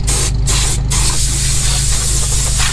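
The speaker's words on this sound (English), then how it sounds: "this might be a very big and expensive air compressor" A large, expensive air compressor at a gas station blasts air in a loud, continuous hiss, close up, with a couple of brief dips in the flow and a low mechanical hum beneath.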